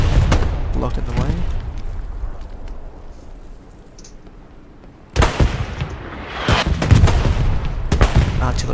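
Video game gunfire arriving as a quieter rumble first, then a loud cluster of sharp shots and bursts in the second half, with someone talking under the action.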